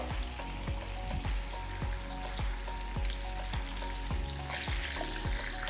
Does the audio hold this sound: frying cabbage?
yes